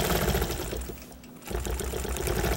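A longarm quilting machine stitches through quilt layers in a steady, close, rapid mechanical whir that briefly slows and quiets near the middle before resuming at full speed.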